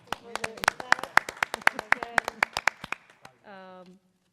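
One person claps alone at a school committee meeting, about a dozen sharp, close slaps in a quick, slightly uneven rhythm that stop abruptly, followed by a short vocal sound.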